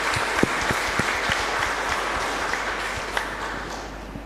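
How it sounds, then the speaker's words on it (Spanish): Congregation applauding during a Catholic Mass in church, a steady reverberant patter of many hands with a few sharper individual claps standing out. "Para ellos todo un fuerte aplauso también."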